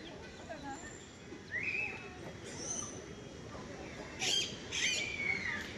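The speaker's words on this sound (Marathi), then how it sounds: "आता सध्या तर मला पोपटांचेच आवाज जास्त, हे पॅरोटचेच आवाज मला जास्त इथे ऐकायला मिळत आहेत" Several parrots squawk and screech intermittently at a distance, with sharp harsh calls rising over a faint background murmur, on a forest walkway on Malabar Hill, Mumbai.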